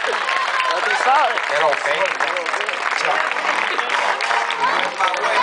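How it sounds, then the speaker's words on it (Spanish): Audience applause for Wallace y Volanta at a summer-night show, a steady wash of clapping and crowd noise running throughout, with a voice speaking over it. "el aplauso para Wallace y Volanta"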